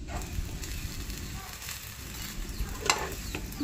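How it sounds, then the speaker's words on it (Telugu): Burelu sweets frying in oil in a pan give a soft, continuous sizzle with faint crackles and an occasional light clink of a utensil, quiet and unaccompanied by speech. "ఇప్పుడు అటు ఇటు 2 సార్లు కాల్చుకుందాం"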